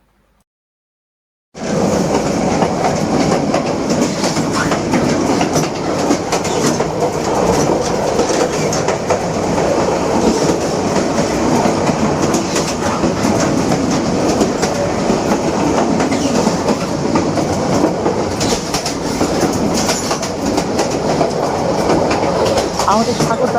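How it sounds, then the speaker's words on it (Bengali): Sagardari Express passenger train in Bangladesh running at night on its Khulna–Rajshahi route, a loud, steady rumble of wheels and carriages with rhythmic clatter that starts suddenly and holds constant throughout, heard from on board. "এই নীরবতার বুক চিরে আমাদের সাগরদাড়ি এক্সপ্রেস ছুটে চলেছে তার আপন ছন্দে"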